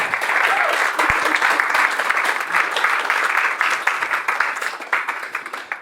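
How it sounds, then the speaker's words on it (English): A wedding crowd applauds steadily for several seconds, dense clapping filling the room with a slight thinning toward the end. "How about a big round of applause for Samantha?"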